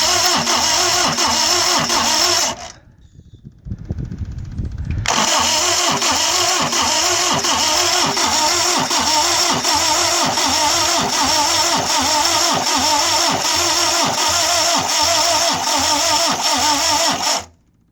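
Diesel engine fitted with glow plugs cranking on its first start attempt, a loud rhythmic chugging turnover that stops briefly, then resumes as a steady pulsing churn for over ten seconds before cutting out.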